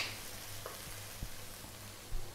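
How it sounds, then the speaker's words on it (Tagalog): A pan of sweet potato stir fry with oyster sauce is stirred, giving a faint steady sizzle with a few soft scrapes and taps of the utensil, and no talking. "Haluin ko lang sandali bago tayo mag-add ng ating piniritong quail eggs"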